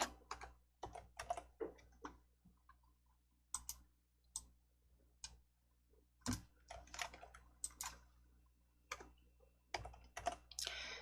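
Quiet, close computer keyboard typing and mouse clicks while working in PowerPoint, with irregular clusters of sharp key taps and single clicks separated by short pauses.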